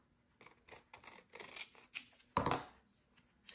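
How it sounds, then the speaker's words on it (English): Sharp scissors snip through a narrow folded strip of paper for a journal pocket, a few quick crisp cuts, with one loud, close snip standing out near the end. "And then I'm going to cut that."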